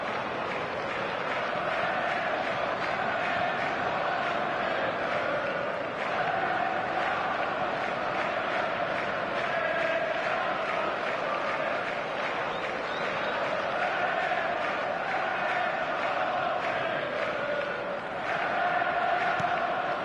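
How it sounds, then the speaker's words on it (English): A large stadium crowd in eFootball roars and cheers steadily after a goal, a sustained dense wall of noise with a commentator talking over it. "the crowd level has gone up a notch or 10"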